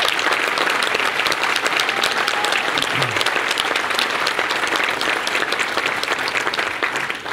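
Sustained applause from a large audience at an upstate Latino summit honouring a governor with an award, dense and steady throughout before easing slightly at the end.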